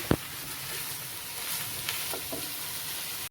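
Marinated chicken cooking in a pan gives off a steady, faint sizzling hiss with occasional crackles and a few light clicks of stirring, with no talking.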